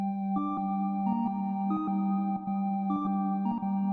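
An organ preset on a CS-80 V analog synth plays a steady, sustained chord with a droning bass while upper notes step through a slow sequence of changes, clear and alone.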